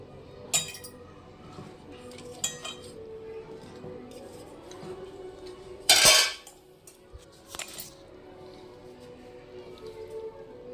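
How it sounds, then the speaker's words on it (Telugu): Cauliflower pieces for gobi 65 tossed and mixed in a bowl, with scattered clinks and scrapes of a utensil against the dish and one louder rattling burst midway, close and otherwise quiet. "ఈ ముక్కలు కూడా దీంట్లో వేసి కలిపేసుకోవాలండి, మొత్తం పట్టిలాగా."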